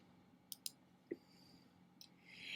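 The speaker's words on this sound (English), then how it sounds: "I'm just going to click next" A few sharp, quiet computer mouse clicks spread across a short stretch, close and isolated against faint room noise, with no talking.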